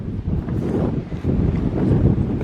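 Strong wind buffets the microphone with a continuous low roar and rumbling gusts, loud and close, with no voices, outdoors at the Douaumont Ossuary on the Verdun battlefield.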